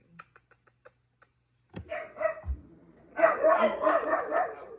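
A few soft, scattered yips, then a dog's whining vocalizations rise into a longer, louder stretch of excited whimpering and barking nearby.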